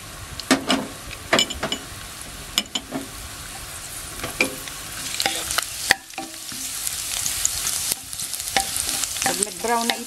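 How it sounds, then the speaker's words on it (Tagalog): Garlic sautéing in cooking oil in a wok for bopis, a steady sizzle broken by repeated sharp scraping strokes of a utensil against the metal, close and moderately loud with no talking. "Lagay po natin ng garlic."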